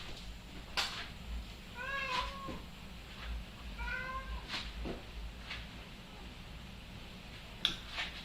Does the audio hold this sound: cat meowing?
yes